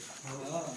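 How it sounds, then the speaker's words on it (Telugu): A bird calls briefly, a soft cooing sound close by, with some voice-like murmur mixed in. "అదేదో పక్షి"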